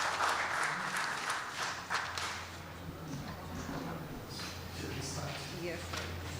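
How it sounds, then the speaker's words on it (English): An audience applauds a surgeon at an oncology event, moderately loud clapping fairly far off in a reverberant hall, with talking mixed in underneath. "big round of applause for you, sir"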